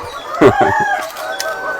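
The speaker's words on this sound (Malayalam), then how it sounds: "ഇത് VV380 എന്ന് പറഞ്ഞൊരു ഇനത്തിൽപ്പെട്ട കോഴിയാ" VV380 breed chickens cluck and one crows at close range, with short overlapping calls and a brief rooster crow rising above the flock.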